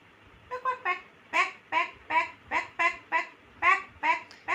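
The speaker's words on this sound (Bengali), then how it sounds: "হাঁস কেমন ডাকে" A recording of a duck quacking plays at home, about a dozen evenly spaced nasal quacks in a steady rhythm, moderately loud over a quiet background.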